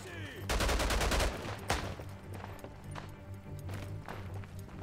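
Gunfire in the World War I shooter Isonzo, a dense rapid burst of automatic shots followed by a single loud crack, then scattered fainter distant shots over a steady background rumble.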